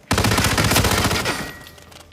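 Rapid burst of gunshots in the Hitman VR video game aboard a yacht, a loud close volley of fast shots lasting about a second before ringing out and fading.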